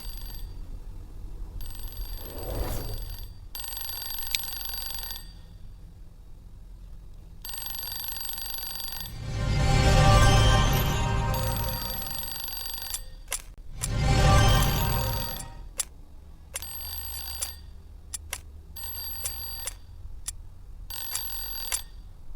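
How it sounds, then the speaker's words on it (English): Museum security alarm in the Unsolved Case video game, sounding in repeated ringing bursts with gaps between them, mixed with louder swelling game effects midway. "The alarm went off and all the doors locked."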